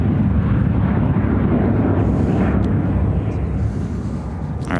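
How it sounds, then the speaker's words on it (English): United Airlines Boeing 737-700 taking off at O'Hare, a loud, broad jet roar that holds steady and slowly fades, with faint talk beneath it. "United Airlines 2282 taking off to Traverse City on the"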